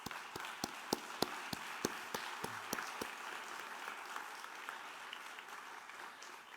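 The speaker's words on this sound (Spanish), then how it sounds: "les brindemos un fuerte aplauso" An audience applauds panel experts at a constitutional law event, a wash of many hands with a few loud, sharp individual claps standing out early, settling into steady moderate clapping that fades slightly toward the end.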